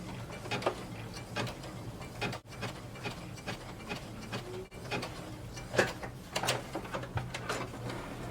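A sewing machine runs a zigzag stitch through fabric, giving a quiet, continuous, close-up mechanical clatter with irregular ticks and small knocks throughout.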